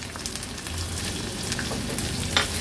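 Onion and green chillies frying in oil with garlic produce a constant close sizzle and crackle, with light stirring scrapes and a few sharper pops scattered across the clip.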